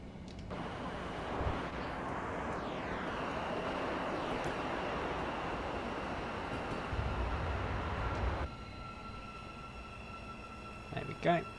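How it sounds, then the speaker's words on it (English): A train in Train Simulator Classic brakes on approach to Finsbury, giving a steady rolling rumble with a descending whine, then the noise drops away and quieter clicks and cab sounds follow, with someone talking over it. "So let's just apply some brakes"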